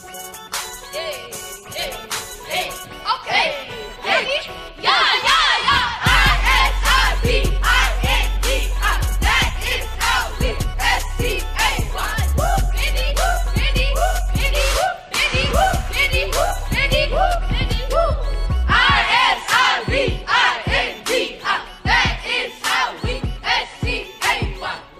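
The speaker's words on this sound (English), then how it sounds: "And Isabindi's hype cheer sounds like this." Isabindi house hype cheer, a crowd of voices shouting and chanting in rhythm over a pounding bass-heavy beat, loud and energetic throughout with overlapping yells.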